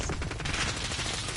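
A dense burst of rapid grenade explosions and gunfire-like blasts in Call of Duty: Modern Warfare on PS4, loud and continuous, filling the whole short moment.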